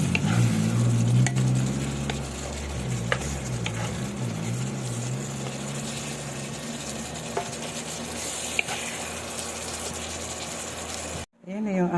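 Shrimp cooks in butter and oyster sauce in a pan, giving a continuous low sizzle and bubbling with occasional stirring clinks under a steady hum, before the sound abruptly cuts off.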